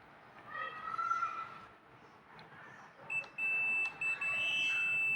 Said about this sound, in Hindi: अगर मैं यहाँ से ऑन करूँगा तो एक साउंड आएगा,